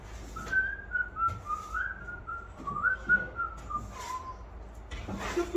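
Someone whistles a wandering tune while sweeping up on a set at Pinewood studios, clear melodic phrases with short pauses over faint room noise, fairly close and alone.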